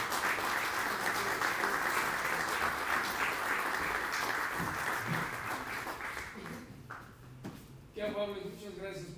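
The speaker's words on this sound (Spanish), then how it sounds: "un aplauso, por favor" An audience applauds a speaker at a talk in a dense, steady wash of clapping that thins out toward the end, giving way to scattered claps, shuffling and a voice beginning to speak.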